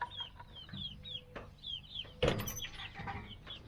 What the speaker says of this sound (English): I hear chirping coming from the coop